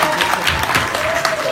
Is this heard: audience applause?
yes